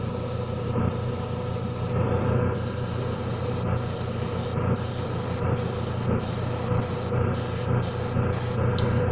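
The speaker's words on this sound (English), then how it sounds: "I'm gonna spray a little higher on this and put a little thicker coat" Steady hiss of a paint spray gun laying a thick textured coat on a frog model, running continuously, broken by several brief pauses as the trigger is released and squeezed again.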